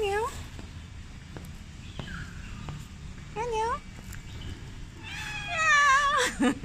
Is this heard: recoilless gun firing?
no